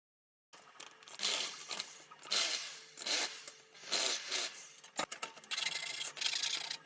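A part of a Shakespeare Salt fishing rod tripod is smoothed by hand with sandpaper or a file: repeated rasping back-and-forth strokes, close and fairly loud, with short pauses between them and a sharp knock near the end.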